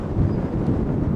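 Strong wind buffets the microphone at a hilltop viewpoint above the south coast near Shuri Castle, a loud continuous low rumble with gusty swells and no voices.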